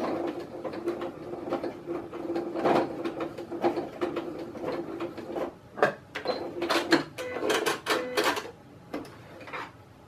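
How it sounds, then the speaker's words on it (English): A sewing machine running its closing lock stitch on a shoulder strap for a folding table: uneven close clicks and brief mechanical bursts with short pauses, fairly quiet, no voices. "Tell the machine I'm done, so it's going to do its closing lock stitch."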